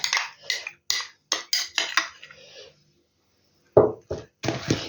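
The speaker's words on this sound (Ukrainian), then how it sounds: "І теж гарненько вимішую це все" A utensil scrapes and clinks against a dish, stirring vegetables, fish topping and mayonnaise in quick repeated strokes, a short pause, then a few more stirring scrapes.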